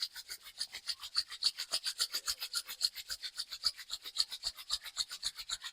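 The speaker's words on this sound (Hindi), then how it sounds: "अपने दोनों हथेली को एक बार फिर से अच्छे से घिस करके हल्का सा गर्म करते हैं।" Two palms rubbed briskly together to warm them during an evening stretch routine, a steady rapid rasping back-and-forth friction about four strokes per second, close and fairly quiet with no talk.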